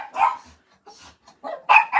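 A dog indoors lets out several loud, close barks in uneven bursts with short gaps, ending in two strong back-to-back barks.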